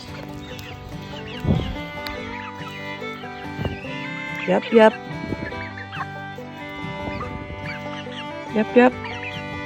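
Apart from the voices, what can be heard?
chickens clucking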